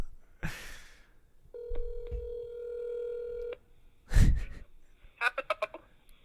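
Telephone call in progress: a brief noise, then a steady ringback tone lasting about two seconds, a burst of rustling, and finally a quick series of short dialing beeps, all fairly close and clear.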